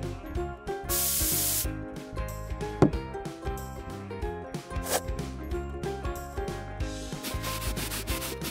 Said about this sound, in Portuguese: Bebê ganha spray mineral.